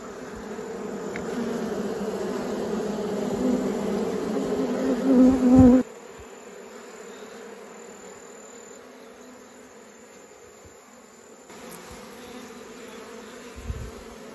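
Bees buzz densely around a wild honey nest dug out of the soil on a hillside, loud and close for about six seconds, then fainter and steadier, with a brief louder burst near the end.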